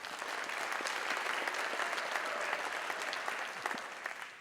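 Audience at a county address clapping and cheering for a new councilman, a sustained wave of applause with occasional whoops that swells and then eases off near the end.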